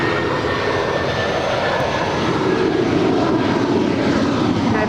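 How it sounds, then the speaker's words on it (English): A 24-year-old United Airlines Boeing 757-200 jet airliner taxis at LAX, giving a loud, steady broadband engine roar that holds near and constant throughout with no talk over it. "Our next departure is United Airlines Flight 514 heading to JFK. It's a 757-200, 24 years of age."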